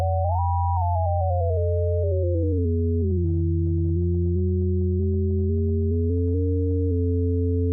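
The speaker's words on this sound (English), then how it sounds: "So we get that classic kind of sci-fi ring mod effect." Sine-wave synth tone run through a ring modulator, giving a metallic sci-fi sound with stepping pitches and inharmonic sum and difference partials, steady and clean with no voices.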